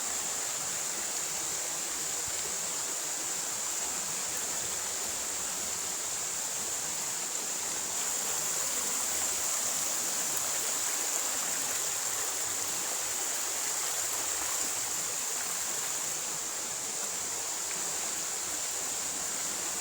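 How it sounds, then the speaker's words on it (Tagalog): A small mountain stream, a creek on a hiking trail to Hudlumon Falls in Lanawan, MacArthur, Leyte, rushes and gurgles in a steady, full wash of water noise that stays constant throughout. "yung maliit na ilog po, yung tawag po dito, sapa po"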